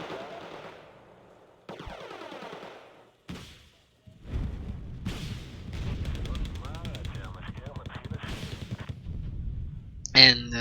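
Grenade launcher blasts and gunfire in the real-time strategy game Wargame: Red Dragon, a sharp thump near the start then a dense, steady rattle of combat noise for several seconds, ending with a loud burst.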